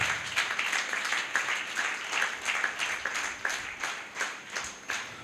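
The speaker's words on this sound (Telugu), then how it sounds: "చప్పట్లు కొట్టి దేవుని నామాన్ని కనపరుద్దాం." A church congregation claps loudly and rhythmically together during a Telugu sermon, keeping a steady, even beat throughout.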